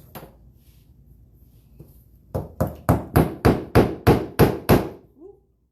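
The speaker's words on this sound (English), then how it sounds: "I hammered over here." Hammer strikes on a craft project: a couple of isolated knocks, then a quick run of about ten sharp, evenly spaced blows close by, ending with a faint brief voice.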